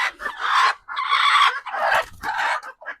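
Several chickens cluck and squawk close by in short bursts, with brief pauses between calls.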